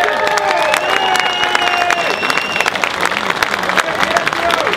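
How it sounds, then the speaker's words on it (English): A crowd at a political rally greets Andrew Hemingway with loud, sustained clapping and cheers, while whistles and shouting voices rise over the applause throughout. "Big round of applause for Andrew Hemingway."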